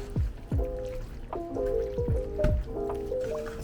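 Wet squelching and dripping as meat and canned ingredients are stirred together in a pot of chili, several soft squishy pulses repeating close by with a faint liquid patter between them.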